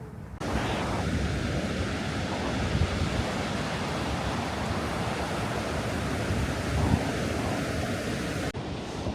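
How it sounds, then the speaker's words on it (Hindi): Atlantic Ocean surf breaking on the shore beside a seaside mosque, a loud, continuous broadband roar of waves with some wind buffeting, steady throughout before cutting off near the end. "ये है अटलांटिक ओशन"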